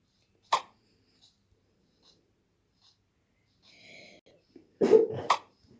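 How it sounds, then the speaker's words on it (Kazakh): A person coughs in short bursts during video game play, with one sharp cough at the start and a louder cluster of coughs near the end, separated by quiet stretches with faint game sounds. "Не істейсің, жөтелме."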